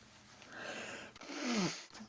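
Someone blows their nose close by in two breathy, snorting bursts, the second louder and longer, with no talking.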